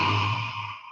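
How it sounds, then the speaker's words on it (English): A person does lion's breath during yoga practice, a single open-mouthed, breathy growling sigh that exhales for about a second and fades out, heard close and alone. "And we're going to kind of growl sigh."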